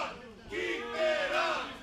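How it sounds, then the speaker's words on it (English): A wrestling crowd boos loudly, a swelling chorus of voices that rises and falls across the arena with shouts mixed in. "What used to be a raucous ovation now turned into a chorus of boos."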